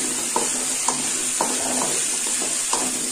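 Whole small onions fry in a pan, a bright, steady hiss with a few soft stirring taps spaced about half a second apart, close and even, no speech.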